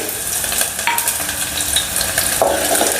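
Finely chopped onions sautéing in hot oil with mustard seeds in a pan, a steady loud sizzle and hiss with occasional stirring scrapes, close up and without talk.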